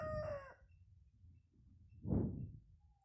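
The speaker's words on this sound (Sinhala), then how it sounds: "ඔහොම තමයි ඉතින් යාළුවනේ අපේ කුකුල් කොඩු" Backyard chicken coop with a rooster crowing once near the start, followed by a short, loud fowl call a little later over low background noise.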